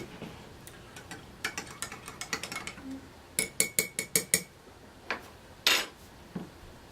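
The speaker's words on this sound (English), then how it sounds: "Give it a little stir." A metal spoon stirs French-press coffee in a cup, giving a quiet series of light, quick clinks and taps against the sides, with a few sharper knocks spread over several seconds.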